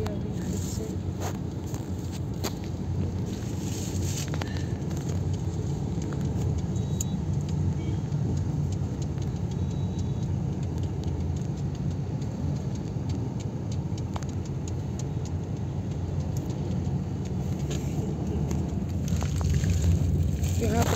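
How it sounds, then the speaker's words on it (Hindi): Cars and other vehicles starting to move again in a traffic jam on a Delhi street, a steady rumble of engines and road noise throughout with occasional clicks, under ongoing talk. "गाड़ी चलना स्टार्ट हुई है अभी फिर से"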